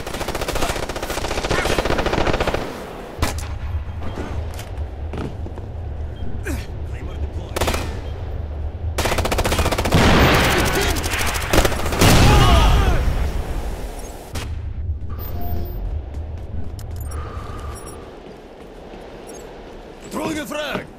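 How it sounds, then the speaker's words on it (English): Heavy machine-gun fire and gunshots in a PS3 video game, sounding as long rattling bursts, explosions and booming impacts throughout. Voices shout over the combat. "I'm taking heavy fire!"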